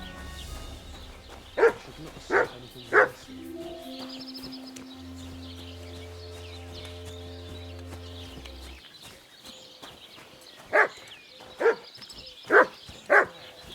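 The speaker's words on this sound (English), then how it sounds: "Who are you barking at?" A dog in Kingdom Come: Deliverance II barks in short bursts of three, pauses, then barks four more times, over a steady electronic game soundtrack with sustained synth tones.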